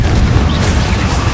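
A Confringo spell explodes in Hogwarts Legacy as a loud, short, full-bodied boom that fills the whole moment.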